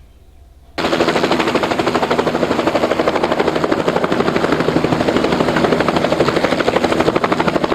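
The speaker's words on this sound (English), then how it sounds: "Let's see a helicopter." A helicopter bursts in after a short, quiet start, its rotor blades thumping in a loud, fast, steady chop over a roaring engine that holds close and constant to the end.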